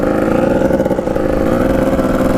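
A cheap, worn dirt bike engine runs close by at a loud, steady idle, its rapid chugging beat and rattly clatter unbroken and without speech.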